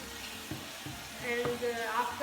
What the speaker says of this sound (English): stir everything together.